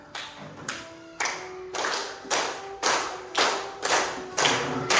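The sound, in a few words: group clapping hands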